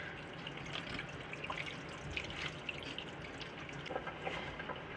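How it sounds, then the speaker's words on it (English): Cheese curds and liquid whey pour into a strainer for homemade farmhouse cheddar, a soft continuous trickle and splash with small drips, faint and steady throughout, with no talking. "I'm just going to pour all my curds into my strainer here."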